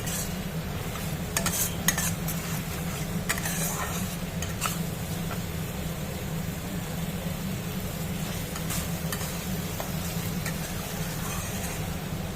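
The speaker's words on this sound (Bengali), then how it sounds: "মশলাগুলো সব মশলাগুলো একসাথে ভালো করে ভেজে নিতে হবে" Spices fry together in a pan for a raw mango chicken curry, a constant close sizzle with repeated spatula scrapes and stirring knocks scattered throughout, no voices.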